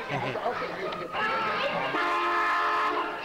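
A train rumbles along with a long, sustained horn blast rising over the noise, and people talk in the background near the start.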